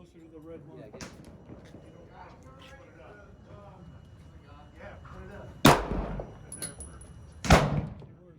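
Two sharp, loud gunshots ring out at a shooting range, spaced a couple of seconds apart near the end, following a stretch of quiet talking.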